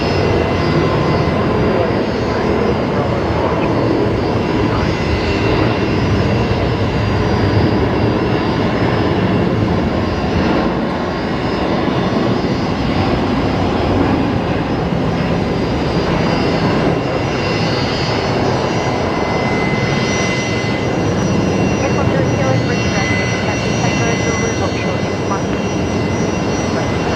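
A Boeing 737 jet at Brisbane Airport produces a continuous loud, broad engine roar that holds steady throughout with little change, heard up close outdoors.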